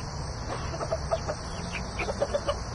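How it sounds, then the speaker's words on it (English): Silkie chickens cluck softly in a backyard coop, giving a string of short, fairly faint clucks over a steady outdoor hum. "Pair of silkies over there."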